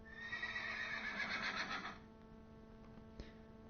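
A horse gives one long, close whinny lasting about two seconds, then falls quiet except for a faint knock.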